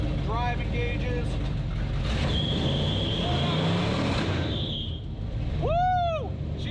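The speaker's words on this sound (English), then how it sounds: "Yeah, I went straight to burnout." A 1995 Chevy Impala SS with an LT1 engine roars through a burnout, loud steady engine rumble with rising tire squeal, close by and continuous, with a person's excited voice cutting in near the end.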